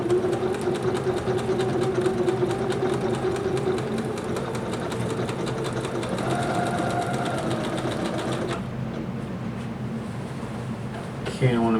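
A Janome Skyline S5 sewing machine quilting with metallic thread runs steadily and close for most of the stretch, its rapid stitching hum dense and continuous before cutting off near the end.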